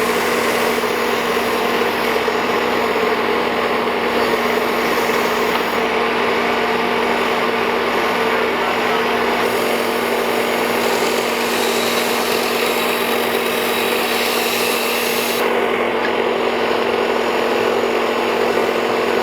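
A power tool whines steadily as dados are cut into cabinet panel stock, a constant loud motor drone with slight shifts in pitch and tone as the cut progresses, no pauses.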